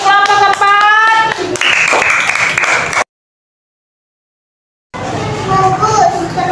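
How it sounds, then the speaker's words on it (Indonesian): Classroom applause for group 4: a dense burst of clapping with voices, cut by a stretch of silence before the clapping and chatter resume. "Tepuk tangan untuk kelompok 4."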